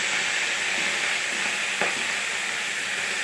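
Prawn shells fry in leftover prawn-frying oil in a wok, a loud, steady close sizzle with one brief stir-like scrape partway through.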